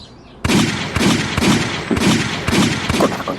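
Gunfire at a firing range: a rapid, loud series of about seven sharp shots in an even rhythm, each ringing out close by, with no talking over them.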